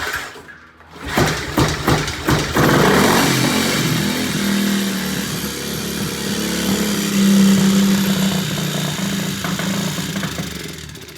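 Triumph T50M motorcycle engine running just after its first start, a close, loud, uneven idle with rough knocking pulses that swells and dips as it struggles to keep running.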